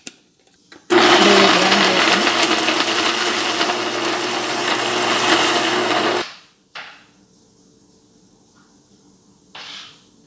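Mixer grinder blending brinjal and tomato chutney, a loud close whirring roar for about five seconds that cuts off abruptly, followed by a short clatter and a brief later burst.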